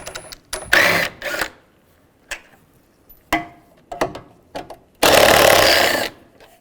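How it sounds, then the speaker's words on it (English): Ratcheting socket wrench, a 10mm socket, backing out bolts while a 1998-2010 Volkswagen Beetle radiator is replaced: loud bursts of ratchet clicking alternate with short sharp taps and knocks, close by, and no talk. "Use a 10mm socket. Take that out."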